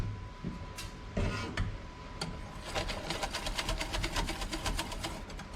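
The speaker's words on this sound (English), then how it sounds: "you are going to slowly add a little bit of milk. And you're going to whisk it in." Warm milk being whisked into a custard mixture for an apple custard tea cake, a whisk rattling against the bowl in quick, steady rhythmic strokes, close and alone.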